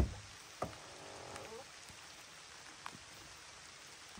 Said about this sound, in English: it's starting to rain kind of heavy